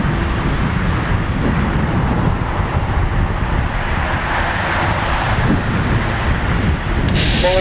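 Boeing 787-9 airliner of MIAT Mongolian Airlines departing runway 16 right at Narita airport in summer, a steady loud engine roar with broadband rumble and wind noise throughout, no talk.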